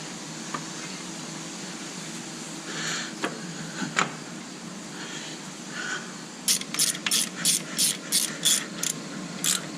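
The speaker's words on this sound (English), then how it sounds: "if you don't have yourselves a set of these ratcheting combo wrenches" A ratcheting combination wrench clicks rapidly during brake work on a 1997 Jeep Wrangler TJ, a few scattered taps and clanks first, then a quick run of even, crisp ratchet bursts close by.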